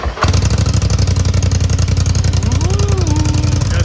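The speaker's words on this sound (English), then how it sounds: "we'll get this bad boy fired up" A Polaris Scrambler XP 1000 S 55-inch RJWC Dual Mud Edition ATV engine cranks and catches almost at once, then settles into a loud, close, steady rumbling idle with a few brief high tones over it.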